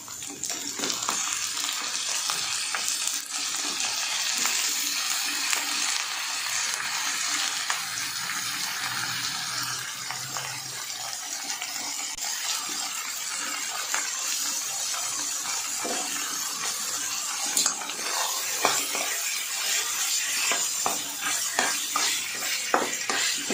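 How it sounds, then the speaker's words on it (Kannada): Mutton frying with onions in a pan while being stirred, a steady bright hiss of sizzling fat with scraping stir sounds and occasional clinks, close and without talk. "ಈಗ ಮಟನ್ ಹಾಕ್ಕೊಳ್ತಾ ಇದ್ದೀನಿ."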